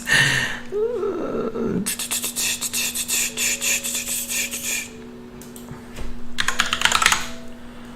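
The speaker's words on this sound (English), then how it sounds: "So then we just need to type out Valen in that font I downloaded." Rapid typing on a computer keyboard comes in dense bursts of clicking keystrokes, with a brief pause between runs and a steady low hum behind it.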